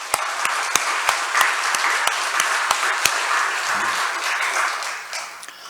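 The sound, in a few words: congregation applause in church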